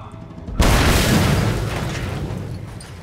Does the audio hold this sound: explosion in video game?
yes